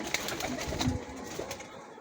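A blue pigeon kept by a breeder coos softly in a short, low, throaty burst, close by, with faint background noise and no talk.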